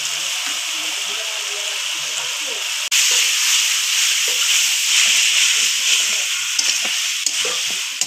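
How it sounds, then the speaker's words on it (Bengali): Pieces of a whole red rooster sauté in a hot pan, a loud steady sizzle and hiss with faint stirring scrapes, jumping louder partway through as more heat or ingredients hit the pan. "মাংস কিছুক্ষণ কষিয়ে নিব।"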